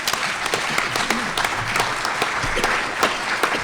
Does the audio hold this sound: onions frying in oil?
no